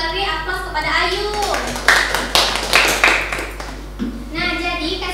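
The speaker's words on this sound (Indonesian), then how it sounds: "Beri aplaus" Short burst of classroom applause from students during a physics lesson on torque, a few loud clap bursts standing out over a room murmur with voices around it.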